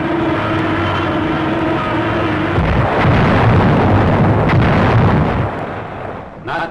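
Wartime artillery counter-battery fire near a coastal landing site, a loud rolling roar of explosions that swells in the middle and fades toward the end, over a low engine-like drone, with no speech.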